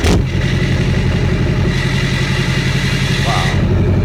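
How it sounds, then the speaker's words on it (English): Diesel Chevrolet truck engine starting and revving at an auto show, a loud, close rumble that runs steadily with rising throttle swells, with people talking over it. "And that's a diesel Chevrolet truck."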